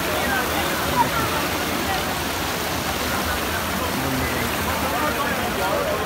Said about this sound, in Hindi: ये नीचे आबशार का पानी है, इस तरफ को जा रहा है